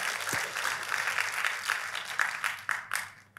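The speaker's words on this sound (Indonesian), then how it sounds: "kalau mau tepuk tangan yang paling meriah" A church congregation breaks into applause, a fairly soft, steady patter of many hands that thins into a few scattered claps before fading.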